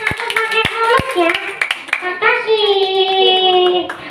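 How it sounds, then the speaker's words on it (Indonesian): Children clap their hands at a school religious study gathering: a handful of crisp, evenly spaced claps ring out near the start, then give way to a voice speaking over the room. "tepuk tangan"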